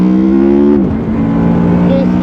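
A close, loud Honda VFR800X Crossrunner four-cylinder motorcycle engine hums at high revs, drops briefly as it shifts, then climbs and settles into a steady drone.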